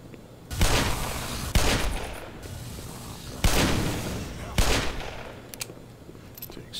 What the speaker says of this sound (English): Takes two shots from the Magnum to take these guys out.